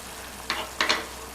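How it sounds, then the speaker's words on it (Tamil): Spicy elephant-foot-yam kara kuzhambu boils in a pot, a soft steady simmer broken by a few brief bubbling bursts and pops, close and fairly quiet, with no talking. "குழம்பு கொதிச்சிருச்சு."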